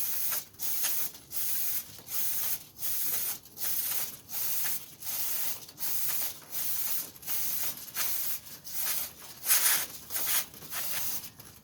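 Chain cleaner sprayed onto a Honda CBR500R motorcycle chain in repeated hissing bursts, roughly one per second, with a faint ratcheting of the chain being turned between sprays and no talking.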